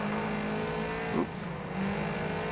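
Rally car engine in the video game Gravel, a steady droning hum that dips sharply for a moment and wobbles as the car oversteers, then settles back to a constant tone, with no talking.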